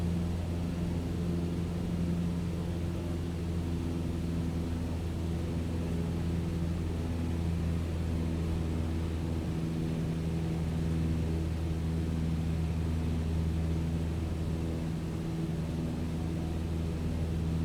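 A Cessna 152 piston engine drones steadily inside Microsoft Flight Simulator 2020, a constant moderate hum with strong low tonal harmonics and airy noise, unbroken and without voices throughout.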